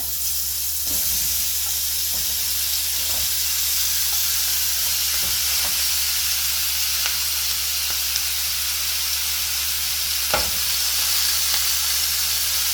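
Pork sizzles and hisses steadily while being stir-fried in a pan for a mango and paprika Jamaican pork chop, with faint scraping stirs now and then over a constant loud frying hiss and no voices.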